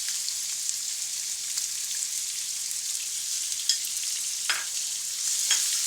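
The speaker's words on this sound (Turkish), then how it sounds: "İçerisine doğramış olduğumuz soğanımızı ilave ediyoruz." Chopped onions and nuts sizzle and crackle steadily in a hot pan, a constant hiss with occasional pops and brief stirring scrapes, no voices.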